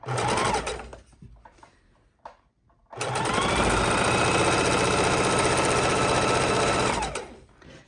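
A domestic sewing machine stitches a tote bag seam, running briefly, pausing, then driving a long steady burst of close mechanical whirring and rapid needle rattle while reversing to backstitch and reinforce the seam.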